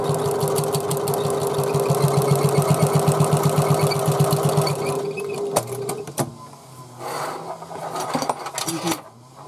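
A sewing machine top-stitches a handbag, running in a fast, even mechanical chatter for about five seconds, then stopping. A few clicks and rustles of fabric being handled follow, close up and without talk.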